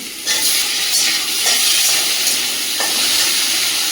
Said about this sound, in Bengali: আর এখানে আছে টমেটো, কাঁচা লঙ্কা, গোটা রসুন সব দিয়ে দেবো তেলের মধ্যে।